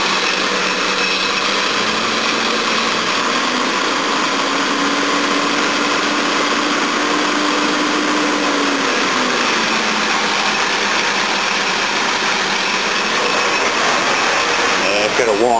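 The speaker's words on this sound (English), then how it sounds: "A bit of chain noise." A Jeep Cherokee XJ engine runs steadily nearby, a loud continuous mechanical drone with a faint rattling chain noise from a worn timing chain guide and a thin whine that wavers in pitch.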